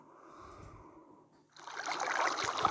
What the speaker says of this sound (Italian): Sento l'acqua, sento l'acqua di questo laghetto